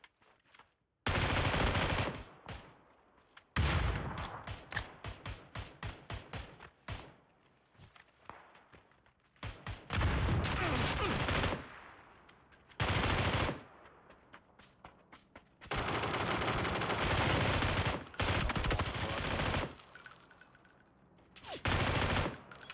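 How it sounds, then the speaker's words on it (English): Automatic rifle and machine gun fire in a battle-royale shooter, long loud bursts and rapid strings of shots repeating across the clip, broken by brief quieter gaps with footsteps and thuds. "We're getting shot at"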